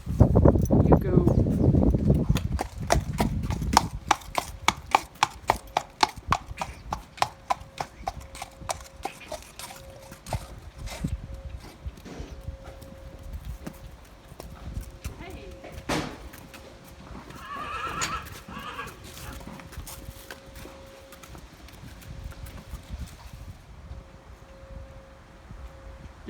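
Horses in a training pen, including two new haltered horses and a grey, give loud neighs and whinnies early on, followed by scattered hoof clops and rustling as they move about, with faint wind throughout.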